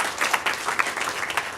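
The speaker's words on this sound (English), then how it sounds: "All right, let's give a round of applause." An audience at an EdTech meetup claps in a short, fairly close burst of applause.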